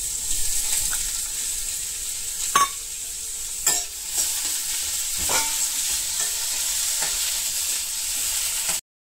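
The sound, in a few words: onions and curry leaves frying in pan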